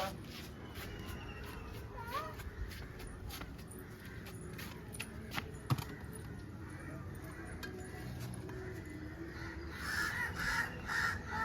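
A crow caws a few times near a home while pecking at offered rice, the calls sounding over quiet household background with faint footsteps and soft clinks.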